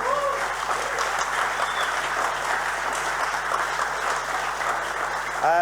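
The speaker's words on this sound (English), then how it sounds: "Please give them all a big round of applause." Continuous applause from an audience at an architectural technology awards event holds at an even level throughout, with a thick wash of many hands clapping and a brief voice heard near the end.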